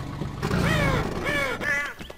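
A crow caws in Garry's Mod, loud and near, with three harsh caws spaced unevenly over a low background rumble.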